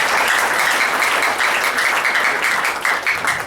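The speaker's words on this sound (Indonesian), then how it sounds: "Tepuk tangan buat semua." A room of insurance agents and leaders bursts into loud, continuous applause, a dense wash of many hands clapping that holds steady throughout.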